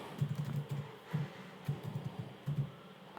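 Keys on a computer keyboard clatter in quick, uneven bursts as a MySQL command is typed into a cloud shell, the clicks close and moderately loud with short gaps.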